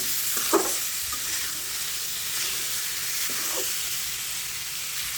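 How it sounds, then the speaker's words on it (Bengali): Koi fish cooking with teasel gourd and potato in a hot pan gives a steady sizzling hiss, with a few soft clinks and scrapes of stirring on top. "এখন আমি এটা একটু কষিয়ে নিচ্ছি"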